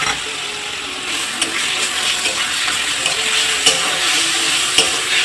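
Onion, ginger, garlic and green chilli paste frying in a pan, a constant bright sizzle with occasional scraping stirs of a spatula, close and unbroken by voices.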